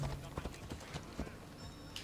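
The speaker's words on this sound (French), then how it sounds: "Viens là, mon cheval." Horse hooves clip-clop in a video game, an uneven run of crisp, close hoofbeats at a trotting pace over faint background game sounds.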